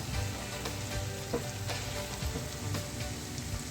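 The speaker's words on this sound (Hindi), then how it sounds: "इसको थोड़ा सा प्याज के साथ हम फ्राई होने देंगे चंद सेकंड के लिए" Steady oily sizzling and crackling of ginger garlic paste frying with onion in a pan, continuous and close, with no voices.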